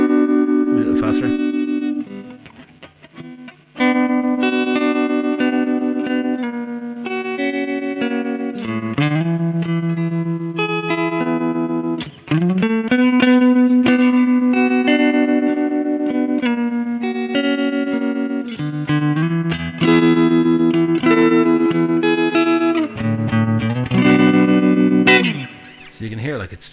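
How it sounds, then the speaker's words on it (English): Guitar played through an MP Custom FX Voodoo Vibe tremolo pedal, with sustained chords and notes pulsing in volume. Loud and close, with no talking over it. "So you can hear like it's just a really nice sounding tremolo."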